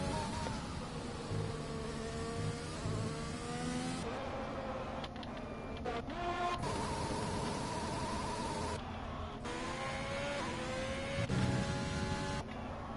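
F1 race car engine in the F1 video game on an outlap, a steady whining drone with shifting pitch and gear changes, fairly loud and continuous with brief drops between shifts.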